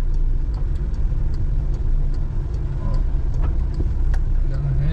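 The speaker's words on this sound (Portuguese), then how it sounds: "Agora vamos dar ré." A manual car slowly reversing during a driving-test practice run in Contagem, MG, its engine a steady close low drone with light ticking above it, running continuously without a break.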